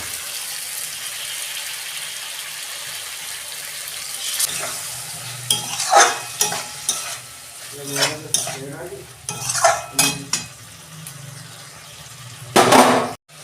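Pointed gourd and potato pieces stirred into spices frying in a pan for potol chingri, with scraping spoon strokes over a steady sizzle, growing busier midway and ending in a louder clatter.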